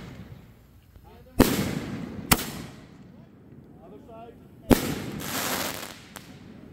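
Fourth of July fireworks at a ranch go off in a few loud, sharp booms and cracks at irregular intervals, each with a short ringing tail, while faint voices murmur between blasts.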